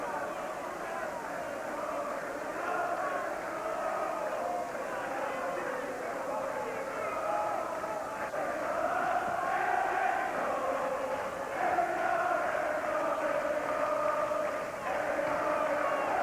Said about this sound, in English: the crowd has broken into song